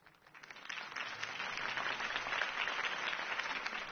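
Crowd applause in a PS4 video game cutscene swells up from quiet and holds steady, a dense wash of many hands clapping at moderate volume.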